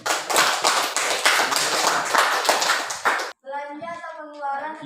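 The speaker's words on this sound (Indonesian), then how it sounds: "tepuk tangan dulu" A classroom of students claps their hands together in a dense burst of rapid applause for about three seconds, then stops abruptly as a person begins talking.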